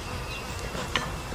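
Honey bees hum softly around a beehive on a farm, a steady low buzz across the whole moment with a brief sharper flick near the end, faint and without talk.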